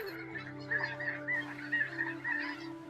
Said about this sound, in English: The sounds of the snow geese and sandhill cranes filled the valley like a symphony.